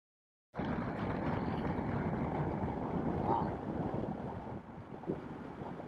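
A Harley-Davidson Pan America motorcycle riding the Million Dollar Highway, heard as steady, heavy wind rushing and buffeting across the microphone. The wind starts abruptly and holds a close, continuous roar with no talking.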